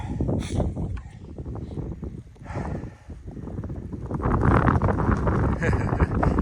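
Gusty wind rumbles and buffets the microphone on the Appalachian Trail, strengthening toward the end, with a person talking under it.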